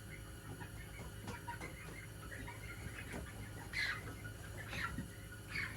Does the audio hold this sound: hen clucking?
yes